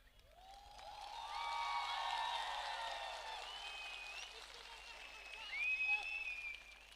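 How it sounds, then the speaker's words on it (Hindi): A crowd applauds the Tipra Motha president at an outdoor political gathering. Steady clapping swells and fades, with shrill whistles and cheers over it. "प्लीज बड़े हाथ से ताली देके please give him the respect"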